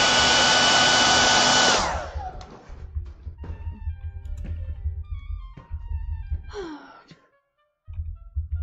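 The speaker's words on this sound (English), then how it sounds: "Get my hairdryer out right quick." A hair dryer dries acrylic paint on a small pumpkin painting. It blows loud and steady for about two seconds, then cuts off and leaves quiet taps and handling noises.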